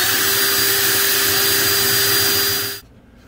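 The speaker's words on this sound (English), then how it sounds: "I drilled through both pieces." A power drill with a 3/8 inch bit bores through a wooden workbench shelf, giving a steady loud whine with a constant pitch that cuts off sharply near the end.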